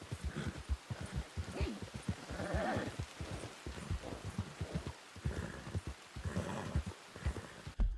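Horse hooves clip-clopping in a rhythmic walking gait in the video game Red Dead Redemption 2, soft and fairly close, with occasional snorts and breathy whinnies between steps.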